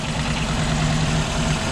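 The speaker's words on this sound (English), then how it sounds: "The engine is running reasonably fine actually." Ford Transit Mk2 camper van engine idles steadily up close, a loud continuous low rumble with an even hum and a slight belt whine as it warms up, no voices over it.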